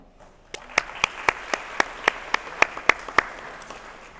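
A small audience at a postsecondary diploma graduation ceremony claps about a dozen times in an evenly paced rhythm of crisp, separate claps, moderately close.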